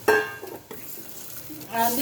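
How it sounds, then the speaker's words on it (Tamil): Oil sizzles in a pan as cinnamon and spices are stirred in for tempering, with a metal utensil clinking and scraping near the microphone. "அதில் பட்டை போட்டு தாளிக்கலாம், நல்லாயிருக்கும்."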